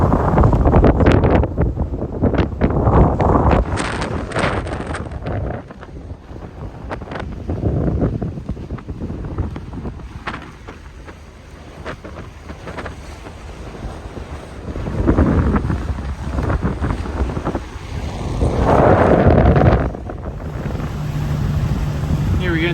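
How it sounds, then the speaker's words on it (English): Gusty sea wind buffets a heeled sailboat on open water near a large island, loud blustery rushes rising and falling in surges, with water wash and a voice talking over it. "The wind's pushing on so hard"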